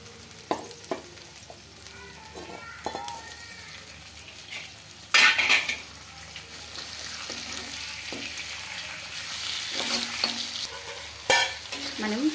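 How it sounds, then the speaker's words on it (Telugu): Chicken frying in a pan on high flame while being stirred with a utensil: a steady sizzle that builds throughout, with sharp clanks of the spoon against the pan, no voices. "మనం చికెన్ను ఒక 2 లేదా 3 నిమిషాలు అయితే ఇలానే కలుపుతూ ఫ్రై చేసుకోవాలండి."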